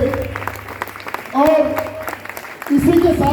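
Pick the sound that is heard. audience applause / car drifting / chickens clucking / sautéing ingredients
audience applause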